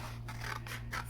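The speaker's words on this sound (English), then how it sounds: "Right now I'm just kind of cutting away" Small scissors fussy cut around a stamped Santa's workshop elf image on card, three or four quick close snips with a soft papery rasp over a low steady hum, no talking.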